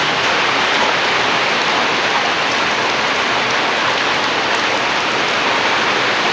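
Steady, heavy rain pours down continuously on a village home, a dense even hiss with no pauses and no voices.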